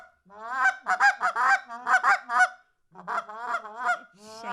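A waterfowl hunter blows a goose call, producing loud, close honks and clucks in rapid bursts with a brief pause midway, imitating a small flock of geese.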